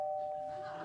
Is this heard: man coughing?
no